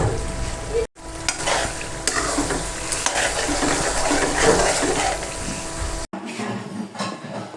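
Boneless chicken handi with butter and coriander stirred in a hot pan, a spoon scraping and churning through the thick sizzling gravy up close, with brief pauses.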